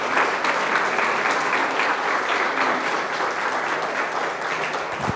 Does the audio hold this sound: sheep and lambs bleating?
no